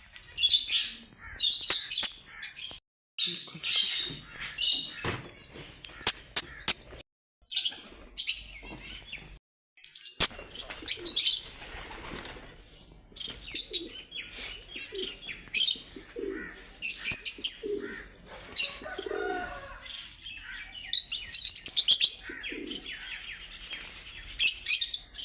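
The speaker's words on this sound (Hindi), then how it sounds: "तोते भी इधर आ गए हैं देखने के लिए, कबूतरों को देखने के लिए।" Birds chirp and call busily nearby, sharp squawky parrot calls mixed with softer pigeon coos and occasional wing flutters, in irregular bursts.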